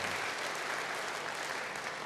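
A church congregation claps in a dense, steady burst of applause that fills the short moment evenly, heard from within the room.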